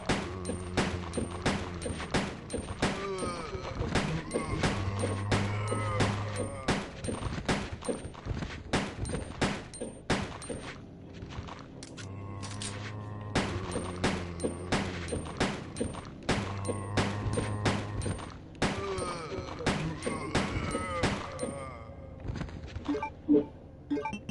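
Leon's handgun in the 1998 video game Resident Evil 2 fires a long series of sharp, evenly spaced shots over low, steady background music, loud and close throughout.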